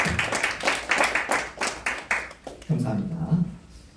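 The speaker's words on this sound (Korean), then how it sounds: "신기 기자님께도 다시 한번 더 뜨거운 박수로 환영해 주시기를 바라겠습니다." An audience at a press conference for overseas Korean journalists gives a short burst of clapping, a few close, separate claps fading out before a voice begins speaking.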